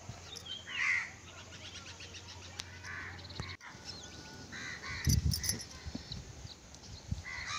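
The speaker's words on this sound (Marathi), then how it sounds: "आता आणखीन जास्त कावळे आले" Crows caw in a village setting, a few scattered calls heard fairly close over a quiet outdoor background, with a brief thump and rustle later on.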